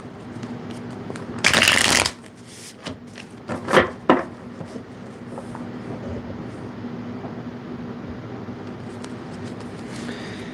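Tarot cards riffle in a quick burst, followed by a few soft taps and slides as the deck is handled, then quiet room noise.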